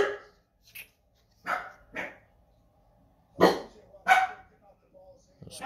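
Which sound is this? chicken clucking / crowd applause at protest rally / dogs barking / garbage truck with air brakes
dogs barking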